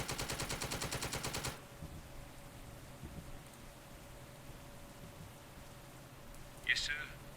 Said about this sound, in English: Fire these machine gun teams at the enemy unit in the buildings.